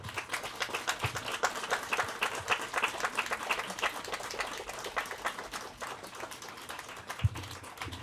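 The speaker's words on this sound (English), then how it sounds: "And let us give us a round of applause to Lolja and Ilya." Audience at a talk on Russian opposition and anti-war resistance claps in steady applause, a dense spread of hand claps at moderate level that fades slightly toward the end.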